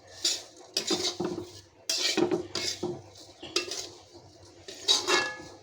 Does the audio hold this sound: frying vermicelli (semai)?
yes